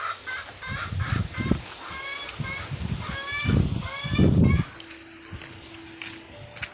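Farm ducks quacking and honking close by in a run of repeated calls, with a few louder bursts, then a short low hum as the calls fade.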